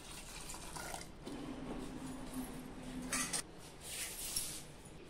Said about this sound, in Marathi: खजूरला ना आपण व्यवस्थित धुवून घेऊयात